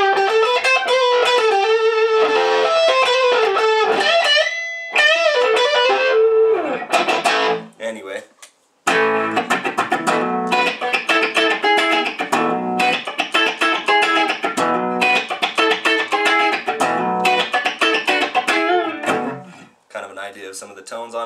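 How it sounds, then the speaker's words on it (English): Distorted electric guitar chords and riffs through a Mesa Boogie Nomad 100 2x12 combo amp ring out loud and crunchy, with a short pause midway before heavy, saturated playing resumes. "Pretty good modern distortion tones."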